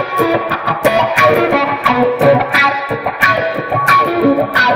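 An electric guitar plays through a Mini Crybaby wah pedal, distorted notes and chords sweeping in tone, with rhythmic picked attacks played alone.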